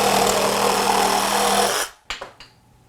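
A Ryobi P516 18V cordless reciprocating saw runs loud and steady at full speed, then cuts off abruptly and falls quiet, leaving a few sharp clunks and rattles near the end.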